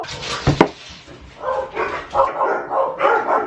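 Dogs barking at someone outside a house, a series of loud, close yips and barks in uneven bursts following a sharp knock-like thump.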